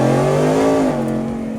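Factory Five XTF truck accelerating hard in second gear, a loud, close engine roar with strong rising harmonics that climbs steadily, then dips briefly as the revs shift and carries on at a steady drone.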